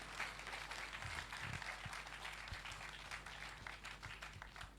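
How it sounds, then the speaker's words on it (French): Applause and an ovation for a speaker at a closing ceremony of an international colloquium, steady crowd clapping, somewhat distant and faint, continuing throughout. "une ovation, des applaudissements,"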